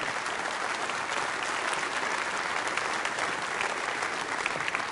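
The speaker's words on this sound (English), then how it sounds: "give yourself a round of applause" A seminar audience applauds steadily, a dense, even wash of clapping from many hands lasting the whole stretch without pause.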